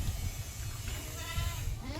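A goat bleats up close, a wavering cry repeated a couple of times over a low background rumble.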